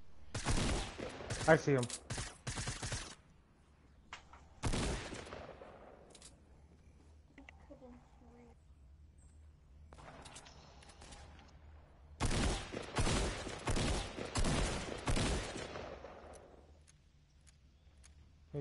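Video game gunfire rattles in bursts of rapid, close shots, with a few quiet gaps between volleys. Players talk briefly between the bursts.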